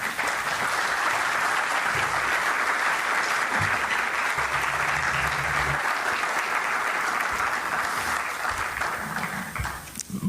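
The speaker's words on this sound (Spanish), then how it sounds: "Un cálido aplauso, por favor" Warm audience applause at a literary event honoring cultural ties between Spain and Israel, dense and steady clapping filling the room for about ten seconds before it tapers off near the end.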